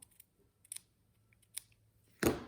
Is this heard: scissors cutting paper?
yes